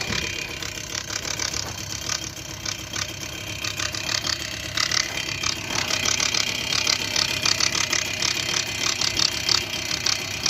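A Tomos A35 Flexer moped engine idles a little high with its back wheel spinning, a steady close mechanical putter with rattling, ratchet-like clatter running throughout, with no talk.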